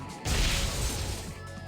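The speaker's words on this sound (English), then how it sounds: "Like the like exploding glass sound effect is so good." A glass-shattering smash in Monster Rancher 4 bursts in suddenly and loud, then trails off into a bright crackling decay of breaking shards.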